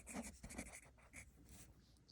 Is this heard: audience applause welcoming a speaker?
no